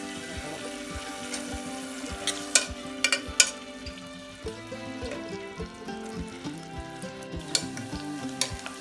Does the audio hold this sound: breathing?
no